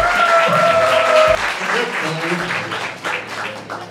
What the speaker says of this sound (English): Round of applause for Angelo.